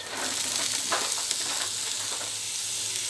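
Carrots stirred into a simmering lasagne sauce in a pan, a steady close sizzle with soft scraping and shuffling strokes running under it throughout.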